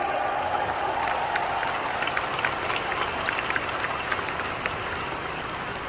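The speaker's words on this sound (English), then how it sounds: "Can you give RIWAY a round of applause today?" A seminar audience in Kuala Lumpur applauds a company called RIWAY, giving a moderate, even round of clapping that holds steady at a middle distance, with a brief higher tone near the start.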